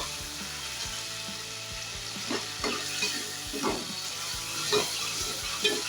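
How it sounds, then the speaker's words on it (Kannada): Tomato pickle fries in oil, a continuous close sizzle and soft bubbling hiss with occasional spoon scrapes and stirring strokes, steady and moderately loud with no speech. "ಇಲ್ಲಿ ಟೊಮೆಟೊ ಚೆನ್ನಾಗಿ ಎಣ್ಣೆ ಬಿಟ್ಕೋತಾ ಇದೆ. ಇನ್ನೂ ಸ್ವಲ್ಪ ಫ್ರೈ ಆಗಬೇಕಿದು."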